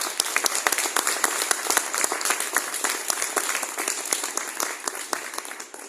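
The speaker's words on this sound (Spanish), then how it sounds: "Fuerte el aplauso." An audience at a panel discussion on dance legislation breaks into dense, sustained applause, many hands clapping fast and close together for several seconds before it starts to thin out at the end.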